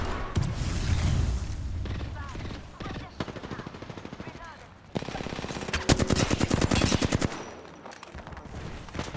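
Rapid automatic gunfire and heavy bursts in the battle-royale shooter Apex Legends crackle loud and continuous, with dense machine-gun rattles and booms layered throughout and voices under the shooting.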